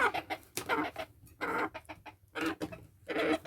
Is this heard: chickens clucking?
yes